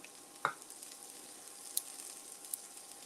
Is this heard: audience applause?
no